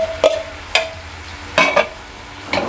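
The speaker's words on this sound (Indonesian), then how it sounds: "Kita tumis kolnya sampai sedikit layu ya." Spatula scrapes and clatters in a pan while cabbage is stir-fried for capcay, a few sharp separate strokes over a low sizzle, close by, with no talking.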